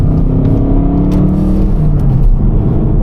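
A car on summer tyres pulls away and picks up speed, its engine droning loud and close with a steady rising whir and low rumble throughout.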